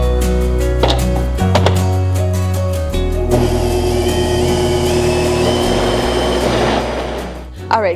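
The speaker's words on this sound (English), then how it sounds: "So I'm gonna throw this in my blender so that I can blend it up real fine" An electric kitchen blender whirs loudly through a smooth purple mixture, a steady motor drone rising to a dense, full roar partway through and cutting off at the end.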